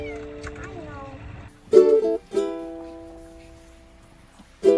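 Domestic cat meowing close by, a few short, clear meows in quick succession, with a person speaking softly between them.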